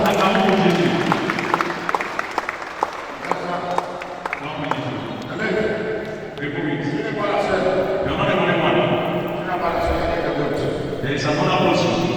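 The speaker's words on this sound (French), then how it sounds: "Acclamons pour Jésus." A crowd at a Christian crusade applauds and cheers for Jesus, a steady dense wash of clapping and voices that swells and continues throughout, mixed with a speaker's amplified talk.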